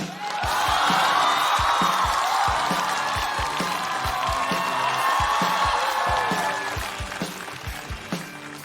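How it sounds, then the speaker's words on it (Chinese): A stand-up comedy audience greets a comedian with loud, sustained clapping and scattered cheers that fill the room, then gradually thin out toward the end. "我们掌声有请韩宇"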